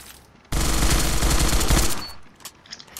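A Vector submachine gun in the game Surviv.io fires one loud, rapid burst lasting about a second and a half, and a few faint clicks and taps follow it.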